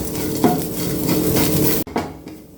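Powdered asafoetida frying in hot oil while stirred in a pan for spinach-stem sambar, a steady close sizzle with metal spoon scrapes and clinks, briefly interrupted near the end.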